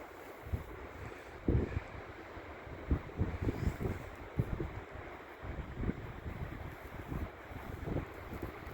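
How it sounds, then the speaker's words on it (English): Steady low rumbling wind buffeting the microphone outdoors, with irregular gusty thumps throughout and no voices. "Freaking windy out today."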